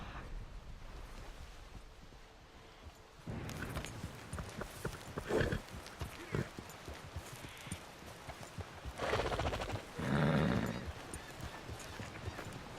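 Horse hooves clip-clop along a path in the game Red Dead Redemption II, a steady muffled trotting rhythm under wind-like ambience, with a few louder swells partway through.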